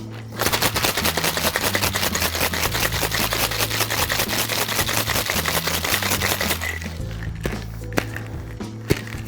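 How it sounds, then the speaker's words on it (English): Cocktail shaker packed with ice given a vigorous wet shake for a whisky sour with egg white, a rapid steady rattling of ice against metal for several seconds, then slowing to a few scattered knocks. "we're gonna use something called a wet shake now"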